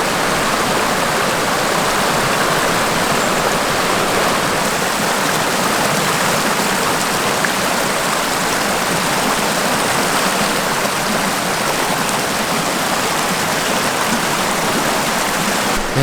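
A swollen river after rain rushes toward the edge of a waterfall, a steady loud broadband roar of churning water that holds constant throughout with no talk over it.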